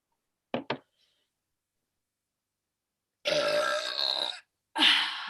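Two long, loud burps from a girl in a burping contest after drinking pop, each over a second and separated by a short pause, preceded by a couple of brief faint clicks.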